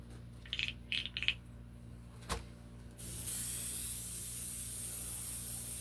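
An airbrush sprays out leftover paint after cleaning: a steady, close, bright hiss that starts abruptly and runs on evenly, preceded by a few brief taps and clicks.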